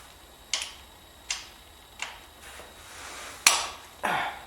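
Socket wrench cracking loose a tight transmission drain plug with an aluminum washer on a 2000 Acura 3.2 TL, heard as a few sharp separate clicks and snaps spaced about a second apart, fairly quiet and without speech.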